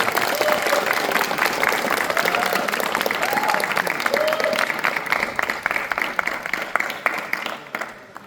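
Loud, sustained audience applause welcomes a poet at an Independence Day poetry gathering at NIT Rourkela, dense clapping with faint cheers that tapers near the end.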